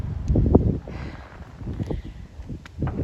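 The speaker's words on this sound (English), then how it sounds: "Oh, wind!" Gusty wind buffets a microphone outdoors at a Canada Day fireworks outing, a steady low rumble that swells loudest in the first second and then keeps blowing unevenly throughout.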